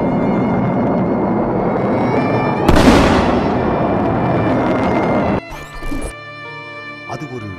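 A single sharp explosive blast bursts out over a steady droning background, while a voice speaks throughout.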